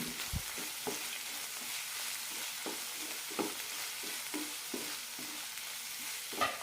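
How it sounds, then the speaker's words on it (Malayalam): Brinjal masala being stirred in a pan with pepper, cumin, fennel and crushed garlic, a steady sizzle of frying underneath repeated scraping strokes of a spoon at a regular pace. "നന്നായി മിക്സ് ചെയ്തെടുക്കാം"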